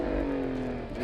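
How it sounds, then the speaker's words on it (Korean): Maserati Grecale Trofeo exhaust giving a steady, loud engine drone with a strong low hum and no pops, heard alone. "자, 뭐 배기 사운드 얘기를 안 할 수가 없죠."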